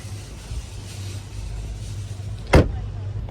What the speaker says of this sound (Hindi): और अब हम गाड़ी को बंद कर देते हैं